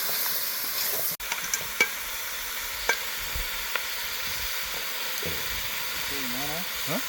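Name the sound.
stirring and frying chicken gravy in a pan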